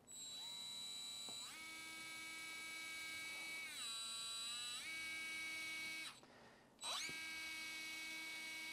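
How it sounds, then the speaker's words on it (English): A surgical drill countersinks the medial cuneiform in the foot during a Lapidus plate fixation, giving a loud, steady high-pitched whine that steps up and down in pitch, cuts out briefly, then spins up again. "Countersinking is performed."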